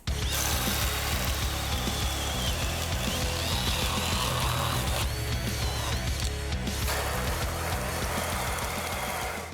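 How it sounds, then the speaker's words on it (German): A cordless drill with a full battery, in second gear and turbo mode, bores a large Forstner bit into wood with a loud, continuous whir and grind that stays steady and close for the whole stretch. "Jetzt also voller Akku, zweiter Gang, Turbo-Modus, großer Forstner"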